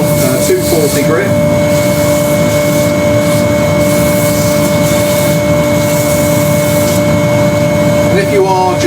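Sandpaper of 240 grit rubs a turned ash bowl spinning on a lathe, a loud steady abrasive hiss over the constant hum of the machine, with a voice speaking at moments.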